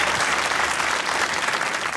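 Audience applause at a mushaira poetry recital, a dense, steady wash of clapping from a large crowd that holds at full strength throughout, with no talking.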